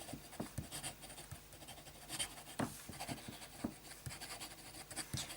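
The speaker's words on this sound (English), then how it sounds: "Bit of fast writing. By no means is it scratchy." Faber-Castell steel-nib fountain pen writing quickly on paper, a faint, close scratching and tapping of strokes in an irregular rhythm, with no talk.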